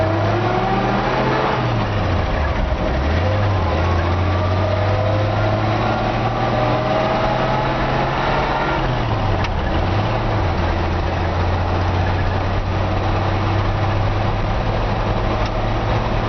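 A 1957 Chevy 3100 pickup with a floor-shifted 3-speed drives along, its engine droning steadily with a few rises and dips in pitch as it shifts, loud and continuous throughout.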